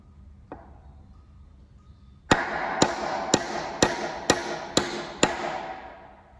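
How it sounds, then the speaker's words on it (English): A hammer drives a 35-year-old galvanized steel bolt out of the mast of a Shrimper 19 sailboat: one light tap, then seven loud, sharp, ringing metallic strikes in a steady rhythm, close up. "So a good smack with the hammer should sort that out."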